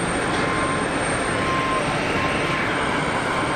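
A Cessna Citation 525 business jet at Geneva Airport gives off a steady, broadband engine roar that holds evenly throughout at moderate distance, with no voices over it.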